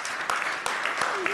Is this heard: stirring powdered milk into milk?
no